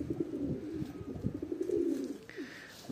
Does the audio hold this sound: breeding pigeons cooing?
yes